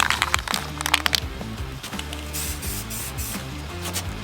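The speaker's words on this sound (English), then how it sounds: "We're gonna shake it up for like 2 minutes. Then we're gonna apply 2 to 3 medium wet coats." A spray can of primer hisses in short, loud bursts over a car bumper, mixed with crinkling and the stepped whine of a mechanical motor, and no voices are heard.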